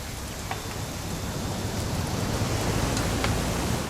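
Rain falling in the game What Remains of Edith Finch, a dense steady hiss of downpour with a faint low rumble beneath, continuous and fairly loud with no voices.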